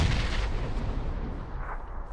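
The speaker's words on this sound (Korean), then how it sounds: "수류탄" Grenade blast in the battle-royale video game PUBG: a loud, dense boom with a rumbling roll that fades steadily over about two seconds, heard alone.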